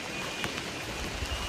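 Heavy rain falls steadily outside a thatched-roof roadside tea shop, a soft, even hiss throughout with occasional faint drips, and no voices.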